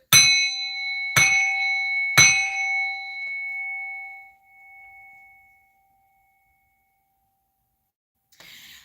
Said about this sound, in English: I'm going to ring this bell to clear, remove, and banish all negative entities